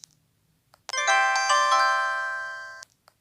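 An LG 630 phone plays its incoming-message notification tone, a bright electronic chime of several stacked ding notes sustained for about two seconds and slowly fading, heard alone and close.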